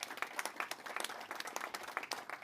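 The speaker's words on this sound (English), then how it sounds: "Let's give him a round of applause as well, if we may." Audience at a talk on technology-enabled cities claps in a brief round of applause, fairly faint and sparse, with distinct individual claps in an uneven patter.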